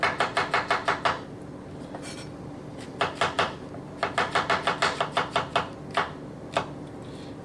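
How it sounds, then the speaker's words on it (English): A cleaver slicing mushrooms on a cutting board in a stir-fry kitchen, crisp rapid chops in quick bursts of eight or more with short pauses between, close and clear over a low background hum. "easier to cut a mushroom if you cut it in half and then you slice it"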